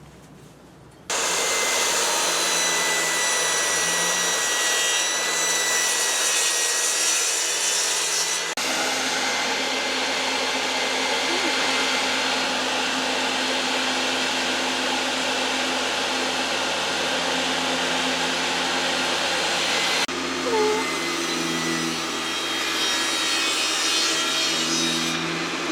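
A saw rips lengthwise through wooden boards being cut for living-room shelves, a loud continuous whining buzz with the cut stopping and restarting twice, close and with no talking.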